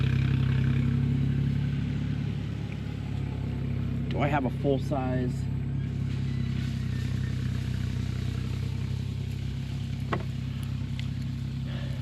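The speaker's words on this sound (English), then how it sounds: "we got a tractor going behind us" A tractor engine drones steadily in the background through the whole stretch, a low continuous rumble outdoors, with someone briefly speaking over it.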